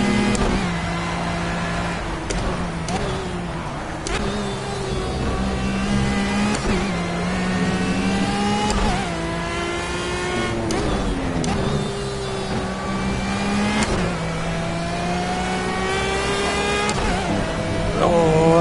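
A race car engine in Project CARS revs hard through a time trial lap, rising in pitch through the gears with brief dips at each shift and lift, loud and continuous, with someone talking over it at times.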